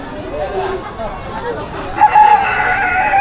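A rooster crows at an outdoor forest park, its call rising partway through over a steady babble of visitors and a nearby voice.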